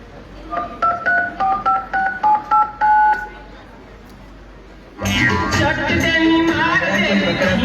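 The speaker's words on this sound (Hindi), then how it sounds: "इको तो फोन करके देखना पड़ेगा।" A telephone number punched in on a keypad during a street play: about ten clear, evenly spaced dial beeps, followed by a loud wash of voices and crowd noise.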